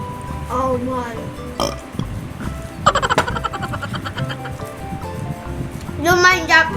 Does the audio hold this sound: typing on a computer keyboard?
no